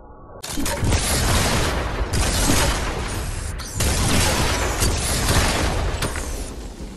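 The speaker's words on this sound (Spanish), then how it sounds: "este es otro ejemplo de disparos que valen para pura madre." Rapid bursts of gunfire in the Fortnite video game, loud and dense, crackling in two long volleys separated by a brief gap.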